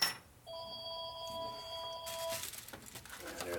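A phone rings in a workshop where a big-bore motorcycle engine case is being machined, giving a clear two-tone electronic ring that repeats steadily for about two seconds and then fades into background clatter.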